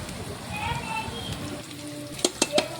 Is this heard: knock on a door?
no